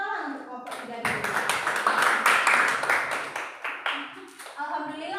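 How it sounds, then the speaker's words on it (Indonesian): A class of students claps for a group that has just finished presenting. The applause is a dense burst of hand claps that swells after the first second, holds for about three seconds, then thins out. "beri tepuk tangan untuk kelompok 3 dulu"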